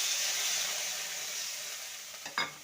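A little water is added to ginger frying in a pan, giving a steady hissing sizzle that slowly fades, with a brief louder burst of sizzling near the end.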